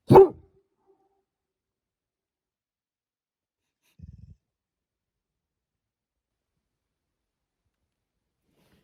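A single sharp dog bark rings out close by at a canyon campsite, followed by a faint, short rustle a few seconds later, then silence.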